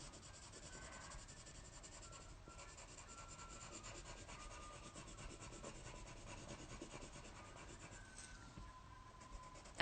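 Coloured pencil strokes scratch and rub on paper while colouring in, a soft continuous close-up texture of repeated strokes at low level.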